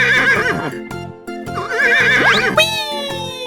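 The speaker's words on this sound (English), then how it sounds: "Horse." A horse in a 3D animal video game neighs loudly in a long, wavering whinny, close and clear over playful game music and hoof clip-clops.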